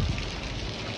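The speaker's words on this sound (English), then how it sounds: "It is raining hard." Hard rain pours steadily outdoors, a dense loud broadband hiss with no gaps over a brief moment, no voices.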